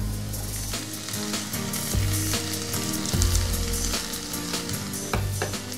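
Boiled, peeled, finely chopped potatoes hit hot oil with a loud, steady sizzle and frying crackle, punctuated by repeated scraping and stirring clatter from a spoon against the pan.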